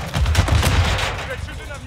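Rapid automatic gunfire in Call of Duty Modern Warfare 2 (2022) crackles in a quick burst of close shots, then fades into a short tail.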